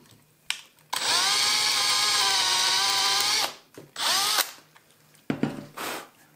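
A power drill drills into melamine board, whining at high speed for about two and a half seconds, then a shorter second burst, with quiet pauses and small knocks around it.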